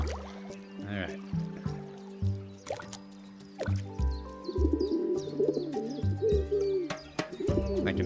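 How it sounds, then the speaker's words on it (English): A pigeon in a video game coos in a few low, soft, repeated calls with a steady rhythm, while chirps and other game sounds play alongside. "I can make the pigeon make noises."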